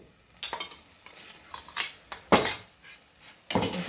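Metal spoon scraping and clinking in a pan of tempering for Kannada-style coconut-mustard chitranna, a series of quick separate strokes with faint sizzling between them.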